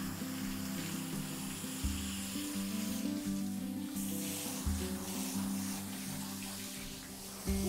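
Water poured and sprayed over a wide horse during a bath, a steady close hiss and splash that runs throughout, with faint background music.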